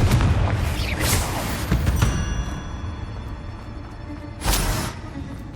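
Repeated Confringo fire-spell blasts in Hogwarts Legacy, booming bursts near the start, around two seconds and again past four seconds, over a steady rumbling game soundscape with no talk.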